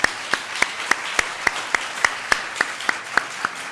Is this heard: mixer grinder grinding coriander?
no